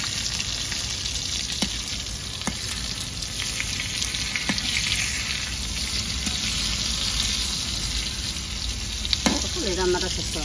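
Sliced pointed gourd (potol) frying in a pan, a continuous oily sizzle with occasional crackles, pops and stirring scrapes, close and steady throughout.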